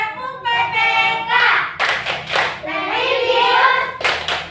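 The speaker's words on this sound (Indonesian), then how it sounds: "marilah kita lakukan tepuk PPK" A classroom group performs the Indonesian tepuk PPK clapping routine, sets of sharp, loud synchronized claps falling in a fixed rhythm between chanted words sung in unison.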